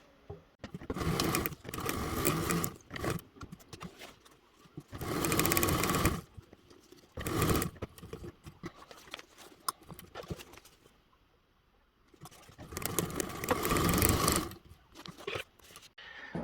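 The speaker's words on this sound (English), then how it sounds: "follow me over to the sewing machine" A sewing machine stitches a zipper pocket shut on a bag project. It runs in several bursts of steady, rapid clatter, with short quiet pauses between the runs, and sounds close, with no voices.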